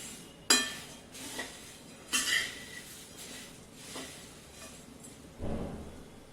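A pan of kurmura (puffed rice) chivda being tossed and stirred, with a few sharp clinks of a spoon against metal and light rustling between them, fairly quiet and close.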